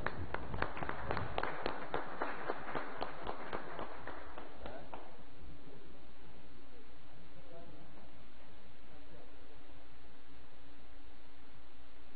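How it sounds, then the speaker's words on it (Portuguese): Brief applause at a municipal council session: a short burst of clapping that thins out after about five seconds and gives way to a quiet room hum. "E uma salva de palmas."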